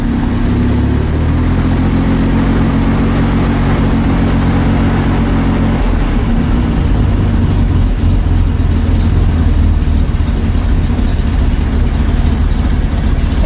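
A 1965 Corvair engine with a newly installed electric fuel pump idles steadily, a loud, even rumble that roughens slightly partway through and holds on without pause.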